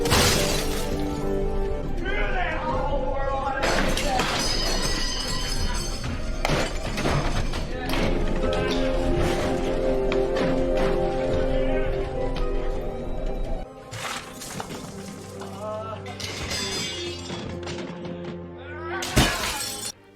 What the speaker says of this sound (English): She goes on a rampage and starts smashing all the mirrors around her.